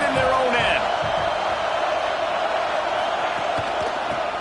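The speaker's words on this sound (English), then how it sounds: "The roar of the crowd trying to fuel this defense to keep them pinned in their own end" Steady, loud crowd roar fills a college football stadium as fans try to fire up the defense, a broad continuous wash of noise with a few brief shouts and whoops near the start.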